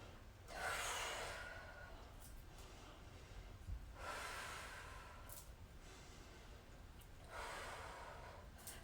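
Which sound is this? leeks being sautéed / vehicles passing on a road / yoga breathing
yoga breathing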